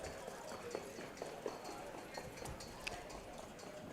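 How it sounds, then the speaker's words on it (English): Warm-up racehorses run at a racetrack, their hooves thudding faintly in a quick irregular beat under a commentator's voice. "So it looks like the warm-up horses are exiting on the backside."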